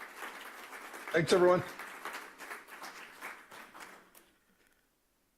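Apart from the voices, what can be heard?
applause for the conference speaker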